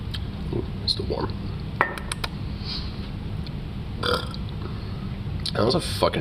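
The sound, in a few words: burp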